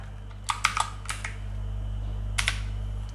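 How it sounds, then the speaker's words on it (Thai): Keys tapped on a computer keyboard while entering a name during setup of a Bmax Maxmini B8 Pro mini PC, a few short clusters of crisp clicks separated by a pause, close and fairly quiet over a steady low hum. "ให้เรามาที่คีย์บอร์ดตรงนี้นะ เลือกอังกฤษ แล้วก็ใส่ชื่อได้เลยนะครับ"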